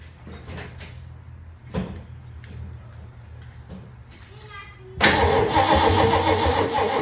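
A car engine hooked to a jump starter cranks, then catches and roars to life, going from a quiet stretch with small clicks to a sudden loud, steady running sound.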